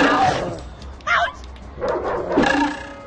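A dog in the Ed Edd n Eddy video game barks and yips in short bursts, loud and close, mixed with other game sounds and a voice talking over it.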